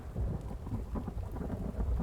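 Rain pours with rumbling thunder in the survival video game The Infected, a dense low roll of thunder beneath steady rainfall, loud and continuous with no talking.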